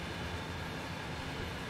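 Steady low rumble and rolling rail noise of a long train passing close by in the game Train Sim World 2, continuous and even throughout with no talk.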